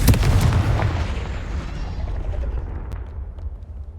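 The Confringo fire spell in Hogwarts Legacy bursts with a loud, close explosive boom that opens sharply and then rumbles away, fading over several seconds.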